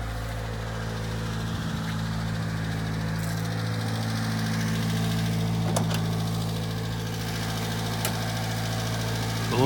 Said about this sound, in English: The little motor is real quiet. It just hums right along.